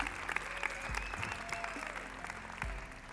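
Applause from the audience at a stage magic show rolls on steadily and fairly softly, with a few voices mixed in.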